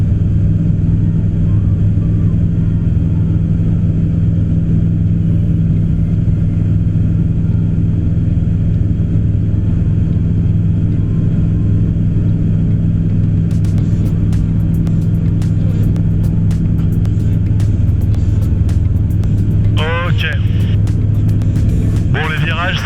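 A DR40 light aircraft engine drones steadily from inside the cockpit, a loud continuous low hum with strong tonal rumble that never lets up, and voices come through briefly over it near the end.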